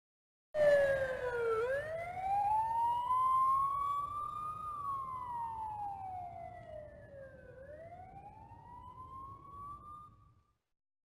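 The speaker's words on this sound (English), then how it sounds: "You can hear nearby police sirens in TimeSplitters 1 which aren't present in the sequel." Police siren wailing through the city streets of the video game TimeSplitters 1, a single long rising and falling electronic tone heard alone and moderately close, sweeping slowly up and down twice before fading out.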